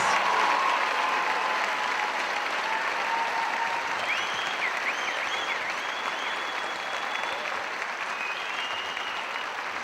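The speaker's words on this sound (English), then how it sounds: "Let's give these students another round of applause for their achievements." A graduation ceremony audience applauds the graduating students in a long, sustained round of dense clapping that stays loud and even for nearly ten seconds, with faint whoops rising above it.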